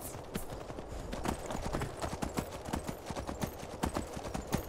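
Steady clip-clop of horse hooves in the video game Skyrim, a quick regular rhythm of sharp knocks, close and clear with no talking.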